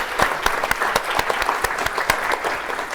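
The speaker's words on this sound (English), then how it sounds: "let's give Ellen a huge round of applause" Clapping from an audience after a leadership talk, individual sharp claps standing out in a steady rhythm over a soft bed of applause, fairly close and moderately loud.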